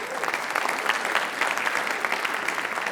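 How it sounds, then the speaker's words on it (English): A classroom audience applauds students at a writers expo, sustained even clapping from many hands at moderate volume, with no talking over it. "Give them a round of applause"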